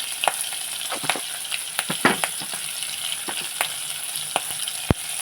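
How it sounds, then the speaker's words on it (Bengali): Prawns seasoned with salt and turmeric fry in a hot pan, giving a continuous close sizzle broken by sharp crackles and pops, with one loud spit near the end. "দিয়ে ভালো করে ভেজে নেবো চিংড়ি মাছটা"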